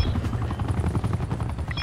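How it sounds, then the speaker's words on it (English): A helicopter in Black Ops 4 whirs with a fast, steady rotor thump that stays loud and close throughout, under a busy gameplay backdrop. "The helicopter."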